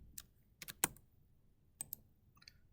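Scattered keystrokes on a computer keyboard come in small bursts of two or three clicks, sharp and close, separated by quiet gaps.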